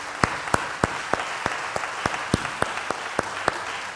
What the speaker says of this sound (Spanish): glorificarlo con un fuerte aplauso en esta mañana